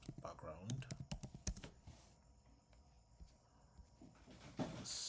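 Quick bursts of computer keyboard typing, close and fairly quiet, with a few sharp keystrokes at the start and scattered taps later over a faint background hiss.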